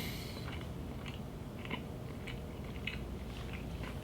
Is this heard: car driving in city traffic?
no